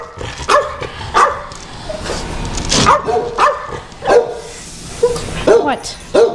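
A yellow dog barks excitedly at dinner time indoors, with repeated close, loud barks and yips in an uneven rhythm, and people talk around it.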